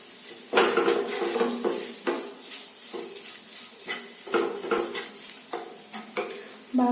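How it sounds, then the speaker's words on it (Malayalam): Egg and leftover rice stirred together in a frying pan, a spatula scraping and clinking against the metal in repeated strokes over a soft, steady sizzle, close and fairly loud with no talking. "ബാക്കിയുള്ള റൈസ് കൂടി ചേർത്ത് വെക്കാം. നന്നായിട്ട് ഇളക്കി യോജിപ്പിക്കാം."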